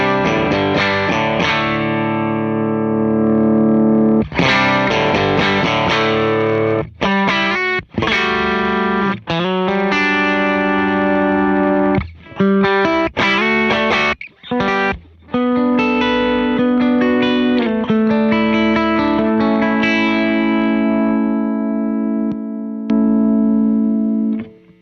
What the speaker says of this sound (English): And then the EP boost side.